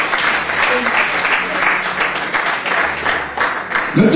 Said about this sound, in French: Applaudissons Jésus, alléluia.